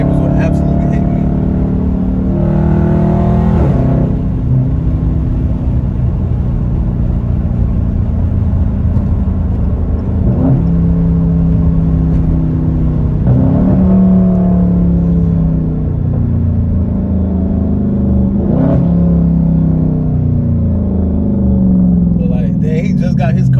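A 2021 widebody Dodge Charger Scat Pack V8 rumbles loudly and continuously while driving, with several rising revs and deep throttle surges under voices talking throughout.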